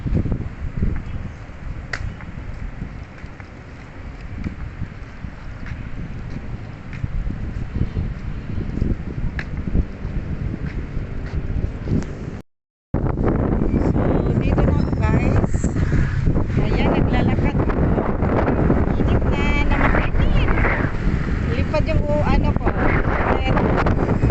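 Strong wind buffets the microphone with a continuous roaring rumble, briefly cutting out midway before returning even louder.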